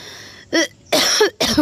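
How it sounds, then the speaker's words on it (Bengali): A person coughs three times in quick succession, sharp rough bursts close to the mic after a moment of quiet, with a brief gap before the last. "কাশি উঠছে"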